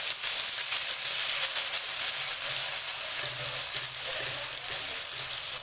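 Chopped onions frying in oil in a karahi, a steady close sizzle and hiss continuing without pause, no talking.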